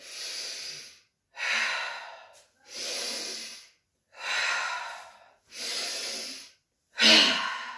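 Deep breaths drawn in during a yoga sun salutation, six long breathy inhalations and exhalations with short pauses between, close and fairly loud, with no talking.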